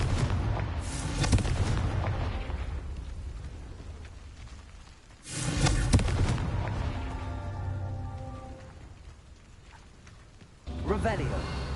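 A Confringo blasting curse in a Harry Potter video game bursts into booming explosions, two heavy blasts with rumbling decay and a third starting near the end, with a voice speaking alongside.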